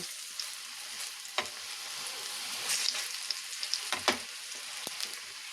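Red lentil fritters with onion and green chili frying in oil in a pan, a steady close sizzle with several sharp crackles and pops, no talking.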